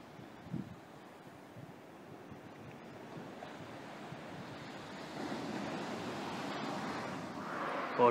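Sea waves wash onto a Corsican beach during a winter evening of surfcasting, a soft continuous surf with a breezy hiss that slowly swells louder, with no voices.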